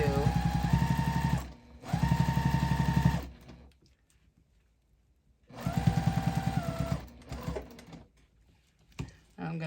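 Sewing machine stitching binding onto a pumpkin hot pad: two steady whirring runs of close stitching separated by a pause, with quiet handling sounds after.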